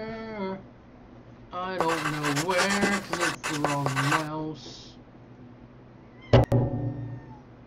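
A cartoonish cat meows repeatedly in the puzzle video game The Bridge, several drawn-out, pitched cries in a cluster, followed by a short thump and a brief scratchy sound, fairly clear against a quiet background.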